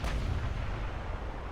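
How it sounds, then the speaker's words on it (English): A massive naval broadside from 18-inch battleship guns in the naval warfare game Ultimate Admiral: Dreadnoughts, a single heavy, booming blast with a deep rumbling tail, loud and close. "Such a massive broadside. And he's got 18-inch guns"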